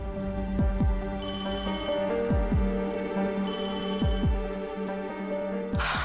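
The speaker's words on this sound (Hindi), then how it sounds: "मुझे आपका फोन बज रहा" A phone rings in two clear bursts of bright electronic trilling, loud and close, over a steady rhythmic throbbing background tone.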